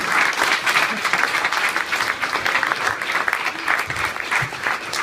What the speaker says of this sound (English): And keep clapping!